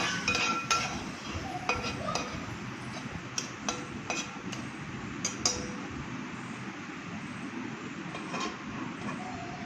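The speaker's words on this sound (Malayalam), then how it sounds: "ഇത് ഇളക്കി കൊടുക്കണം ഇളക്കി കൊടുത്തിട്ട് നമുക്ക് അടച്ചു വെക്കാം" A prawn roast is stirred in a pan and the lid set on, giving scattered light clinks and scrapes of metal over a steady broadband sizzle, with no talking.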